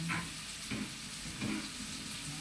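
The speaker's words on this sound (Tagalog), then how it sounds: "Igigisa na lang natin itong onion." Onions sizzle and fry in a hot pan in a home kitchen, a steady crackling hiss with a few soft stirring scrapes, close and continuous with no talking.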